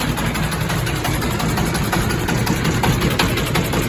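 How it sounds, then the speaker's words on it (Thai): A steady, rumbling single-cylinder engine idles nearby on a Chinese-made hydraulic farm machine used in rice paddies, a continuous low chugging drone with a regular pulsing beat and no other sounds. "เครื่องยนต์สูบเดียวนะครับ"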